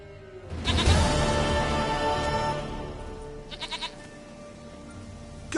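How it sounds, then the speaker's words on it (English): A goat in The Witcher bleats loudly and close, one long wavering cry, followed by a few shorter, softer bleats over a quiet game backdrop. "Goat of mine, dearest, sweetest goat."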